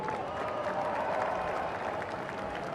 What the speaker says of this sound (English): let's give him a round of applause because we love our military